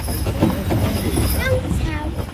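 Carriage horse hooves clip-clop at a steady trot close by, with voices and street noise mixed in around them.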